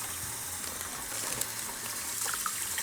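Cold water runs steadily from a kitchen tap while tricolor potatoes are rinsed, a constant bright gushing hiss with faint clattering underneath, no speech.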